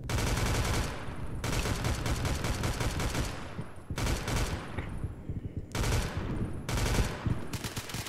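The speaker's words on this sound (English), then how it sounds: "Suppressing fire! Suppressive fire." Sustained automatic gunfire in a Roblox shooter, loud and dense bursts of rapid fire that pause briefly between volleys, with music-like tones mixed in.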